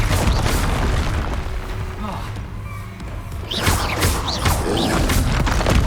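In the video game Hogwarts Legacy, Confringo explosive spells go off as booming blasts and crackling bursts amid battle effects, loud and close, mixed with a character shouting spell names.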